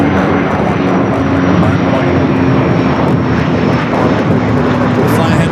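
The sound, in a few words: Delta Boeing 767-300ER taking off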